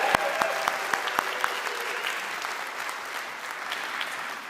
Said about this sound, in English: Can I get another quick round of applause for our faculty and staff?